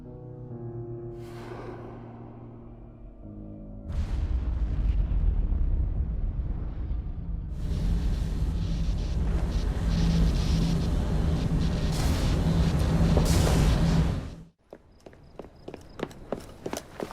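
A Piece of Eden detonating and destroying a lab in Assassin's Creed Syndicate: after a quiet musical passage, a massive roaring blast with sustained rumbling debris for about ten seconds, cutting off abruptly into crackling aftermath.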